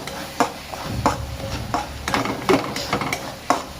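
Prawns masala fry is stirred in a pan, the spoon scraping and knocking in an uneven rhythm over a low sizzle of thick gravy, close and fairly loud, without speech.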